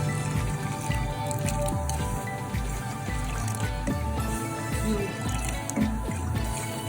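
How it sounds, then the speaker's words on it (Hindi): Cold water is poured into Kashmiri pink tea (gulabi chai) while it is stirred, a continuous close-up trickle and splash with soft sloshing from the stirring. "इसको यूं ऊपर से आपने पानी डालना है और साथ साथ आपने इसको ऐसे हिलाते रहना है"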